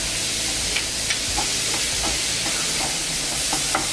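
Tomato and chopped green chilli sautéing in a pan on the stove, a soft steady sizzle and hiss with occasional light clicks of stirring, alone with no talk.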